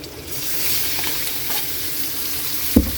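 Pork tossed into a pan of sautéed onions for La Paz batchoy, sizzling steadily up close with a soft stir and one sharp knock near the end.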